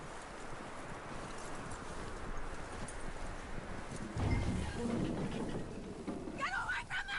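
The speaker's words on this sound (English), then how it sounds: "That looks like a decent horse." Hooves clip-clopping from a horse in the Red Dead Redemption 2 video game, a steady patter running low under ambient game sound, with brief speech near the end.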